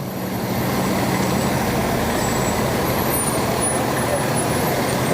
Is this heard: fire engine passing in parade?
yes